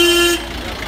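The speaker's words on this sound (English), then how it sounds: "I just thought I'd film a few seconds of this crazy traffic" Busy street traffic at McLeod square in Dharamsala, India, with a loud car horn blaring for about a third of a second, then a low jumble of traffic noise.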